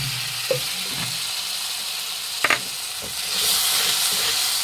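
Water poured into frying spices seasoned with salt and sugar for a vegetarian potol dish sends up a loud, building steam hiss and sizzle, after a few soft clinks of utensils.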